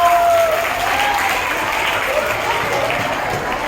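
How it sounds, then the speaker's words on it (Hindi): Schoolchildren clapping loudly for a student receiving a certificate at a Children's Day 2022 school event: a dense, steady wash of applause filling the room, with faint voices mixed in. "बच्चों जोरदार तालियां।"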